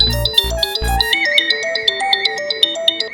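A mobile phone ringtone plays a bright, repeating electronic melody of quick chiming notes, loud and close, over a few seconds with no talking.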